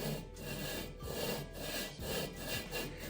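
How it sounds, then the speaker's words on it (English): A Volkswagen Beetle cylinder is worked back and forth on top of the engine block, making a rough, rasping grind that swells and fades in a steady rhythm of about six strokes, quiet and close, with no talking. "And you can hear it grinding."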